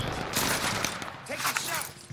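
Rapid bursts of gunfire crackle through a multiplayer shooter match, dense and loud with overlapping shots and a brief tonal effect midway.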